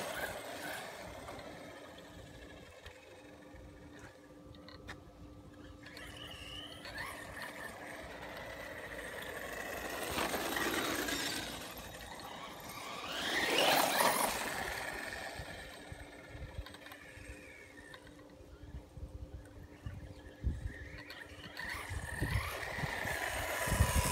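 Redcat Blackout XTE Pro RC truck on a 2S LiPo, a budget build without a slipper clutch or center diff, whining and surging as it accelerates in passes, louder around the middle, heard at moderate distance with no talk.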